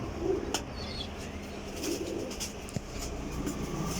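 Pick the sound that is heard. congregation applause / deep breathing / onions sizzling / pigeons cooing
pigeons cooing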